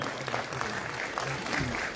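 Audience applause at a Bharat Rang Mahotsav theatre festival honouring ceremony fills the clip, as a steady dense wash of clapping that holds throughout with faint voices underneath.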